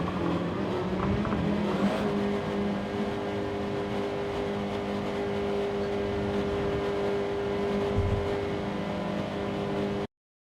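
Race cars in Gran Turismo 7 during an online lobby race, a steady engine drone with sustained tones and a brief burst of revving near the start, continuous and fairly loud with no talking.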